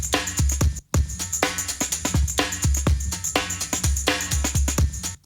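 A funk drum break looped over one bar, with punchy kicks, crisp snare hits and busy hi-hats repeating in a tight, steady groove.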